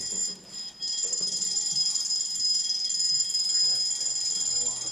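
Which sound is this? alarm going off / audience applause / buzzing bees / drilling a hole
alarm going off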